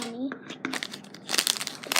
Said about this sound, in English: So let's open it up. It's like some foil.